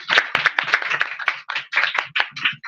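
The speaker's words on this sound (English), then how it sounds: "Please, round of applause." Audience clapping at an evening book giveaway event, a dense, steady patter of many hands that fills the whole stretch at moderate loudness, with no talk over it.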